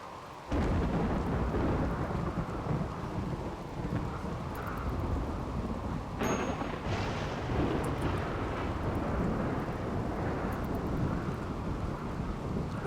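Heavy rain with rolling thunder from a Rimworld storm, a dense continuous roar with deep rumbles and a sharper crack near the middle, no voices over it.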